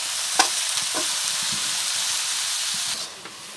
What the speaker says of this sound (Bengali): ভাজিটা আমার ভালো করে নাড়াচাড়া দিয়ে দিতেছে।